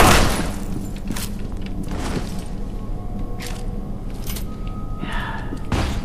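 Gunfire in the first-person shooter F.E.A.R. 2, a loud burst at the start followed by several sharp shots and thumps spaced over several seconds against a steady game background.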